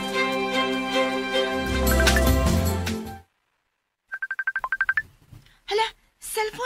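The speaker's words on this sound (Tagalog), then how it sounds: "cellphone nag-ring" A cellphone ringtone chirps in a quick run of pulsed electronic beeps after background music stops abruptly. Brief voice-like sounds and a few other short noises follow.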